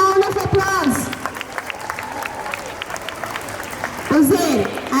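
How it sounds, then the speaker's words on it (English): Parents and children applaud at a school investiture ceremony, a dense wash of clapping running throughout, with a voice speaking over it at the start and again near the end. "I request all the parents, children, everybody to please give a huge round of applause."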